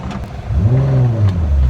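A Datsun 240Z engine fitted with an E31 head revs up close and loud, its pitch rising then holding high for about a second before easing off.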